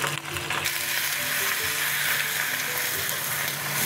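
Rapeseed greens stir-fry with garlic in a hot wok, giving a steady close sizzle with light stirring scrapes throughout and no talking.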